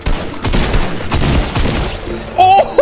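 Assault rifle fire in Fortnite, rapid loud shots packed close together for about two seconds, then a short pause and a few brighter in-game effect sounds at the end.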